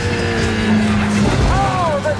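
Formula One race cars roar through a film race scene, a continuous loud engine drone with a rising tire squeal near the end, while a voice talks over the action.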